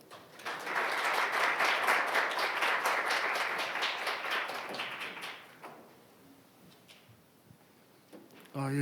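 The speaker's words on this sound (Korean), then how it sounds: "큰 박수로 환영해 주십시오" Audience applause at a Korean AI education expert forum welcoming a science foundation chairman to the stage: dense, sustained clapping for about five seconds, then fading into a quiet room before a voice begins at the end.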